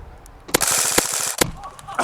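An airsoft gun fires on rapid fire outdoors, with a loud, close burst of quick rattling shots framed by a few sharp single cracks.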